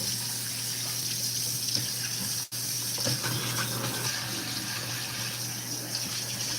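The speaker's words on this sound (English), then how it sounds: "You guys can hear the water, right?" Kitchen tap running steadily into a sink while dishes are washed, a continuous close gushing hiss with a brief cut near the middle and no talking.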